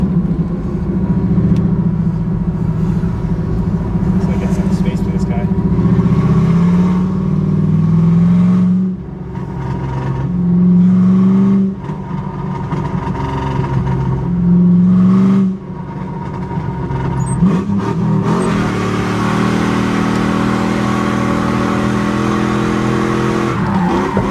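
A V8-swapped Volvo 960 on coilovers drifts an on-ramp in third gear, its engine droning loudly and rising in repeated revving surges with brief dips between pulls, tire noise beneath, ending in a rougher, wind-heavy rush.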